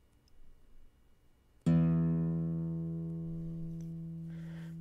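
A low E reference note for guitar tuning rings out suddenly after a quiet lead-in and sustains as a rich, slowly fading tone, near and clear, with a faint hiss toward the end.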